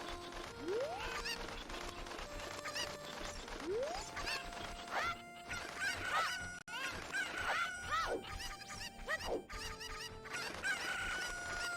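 Chickens in a video game cluck and squawk with repeated rising, crowing calls that come in overlapping bursts over a steady game ambience.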